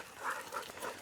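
A hunting dog on a box turtle hunt gives a few short, close whimpering yelps in quick succession, with no talk.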